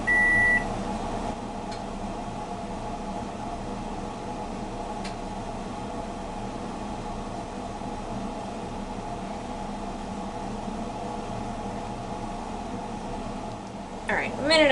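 A microwave oven hums steadily while heating soap base, a continuous droning whir with a high beep at the start and a cluster of beeps at the end.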